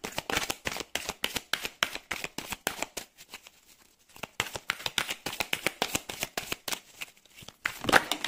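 Oracle cards being shuffled by hand, a long run of quick crisp riffling flicks in steady rhythm, close and fairly quiet, with a short pause before the shuffling resumes.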